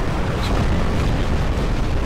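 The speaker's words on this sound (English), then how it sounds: "Dude just unleashed a barrage of rockets on me." Barrage of rockets exploding in War Robots, heard as a dense, continuous roar of overlapping blasts and rumbling noise, loud and close throughout.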